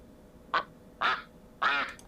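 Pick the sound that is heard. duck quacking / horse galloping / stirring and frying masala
duck quacking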